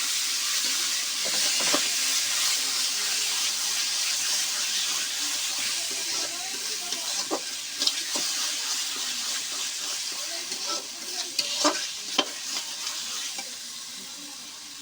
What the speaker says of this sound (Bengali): এবার একটা কচুটা ভেজে দেবো।